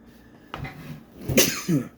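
A single close sneeze bursts out after a short inhale, followed by a brief breathy exhale; no talking.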